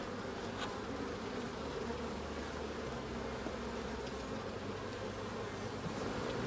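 A steady, dense hum of many honeybees buzzing close by on a hive frame, continuous and even throughout with no voices.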